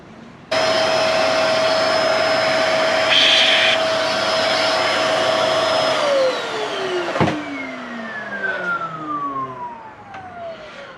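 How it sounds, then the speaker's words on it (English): A vacuum cleaner sucks debris out of a Subaru Forester engine, a loud steady whine with a high tonal hum that runs for several seconds, then winds down with falling pitch after switch-off, ending with a clunk. "I'm going to get the vacuum and suck them out."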